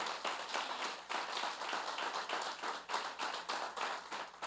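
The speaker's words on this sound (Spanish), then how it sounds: "vamos a recibir con un fuerte aplauso a la doctora Grisel García Delgado" An audience applauds as a doctor is welcomed to speak, a fairly faint patter of individual claps with distinct rhythmic hand strikes, continuous and without talk.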